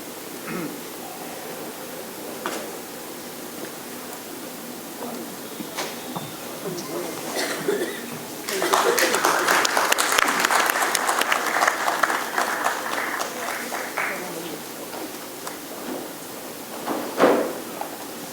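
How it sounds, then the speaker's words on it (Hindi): Applause from the audience at a kavi sammelan poetry gathering, rising after quieter room noise into a sustained burst of clapping for several seconds, then fading back, with some voices underneath. "तो इसीलिए आप सबसे गुजारिश है ज़ोरदार तालियां"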